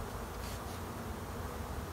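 Honey bees buzz and fan at a hive entrance near a beach cottage in Biloxi, Mississippi, a faint, steady drone with no voices.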